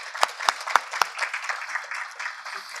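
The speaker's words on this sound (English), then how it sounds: "Let's give them another round of applause for that." Applause at an annual members' meeting: a few sharp, separate claps ring out first, then thin into a looser, fading patter of scattered clapping across the room.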